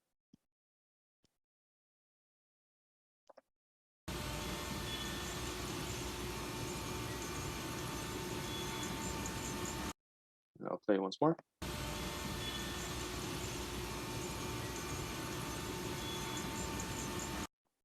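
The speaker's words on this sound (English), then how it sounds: "in the first one, you can hear the sound of the conveyor belts." A steady broadband machine drone of running conveyor belts, broken by a brief pause with a short burst of tonal horn-like sounds from RC vehicles, then the drone resumes.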